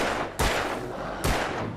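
Gunfire in the Alan Wake video game: two sharp, loud shots about a second apart, each a hard crack with a brief decay, and no talking over them.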